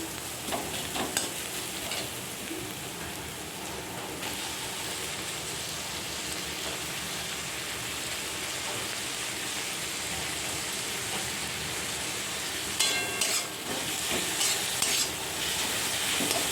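Chopped tomato fries in a pan with oil, giving a steady, loud, dense sizzle that carries on throughout, with a few stirring scrapes near the start and end and no talking.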